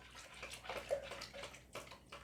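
Hot madras curry sauce pours into a slow cooker in a run of soft, wet, glugging splashes at close range, with no one speaking over it.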